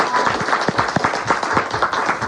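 A live audience claps steadily for a singer at an evening gathering in Luis Mariano's house in Arcangues; the applause is loud and close, with dense irregular hand claps throughout.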